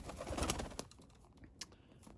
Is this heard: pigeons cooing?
yes